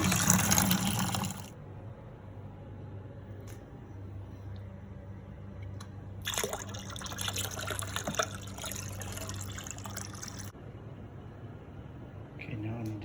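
Filtered water gushes into home-brew robust porter wort in a fermenting bucket, pouring in loud bursts at the start and again midway, with quieter trickling and low hum between.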